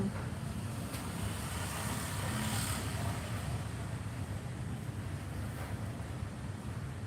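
Steady wind blows past a home during a livestream, a continuous broadband rush with gusty swells and no voices.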